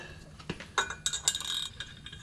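A metal wrench clinks and clicks against fittings while someone works on a Polaris Pro XP, a few short sharp metallic taps and rattles close by.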